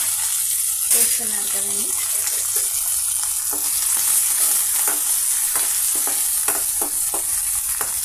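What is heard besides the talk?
green chillies, onion, curry leaves and tempering seeds frying in oil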